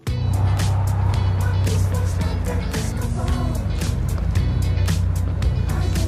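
An 8000 lb Hyster forklift drives up onto a Diamond C trailer, its engine a loud steady drone with rumbling low end and clanking throughout, with faint voices in the background.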